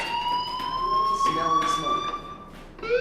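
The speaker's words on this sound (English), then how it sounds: "Hey, do you hear that fire alarm?" A fire alarm in the video game Life is Strange rings as a steady, loud electronic tone that holds unbroken through the whole stretch over a faint background murmur.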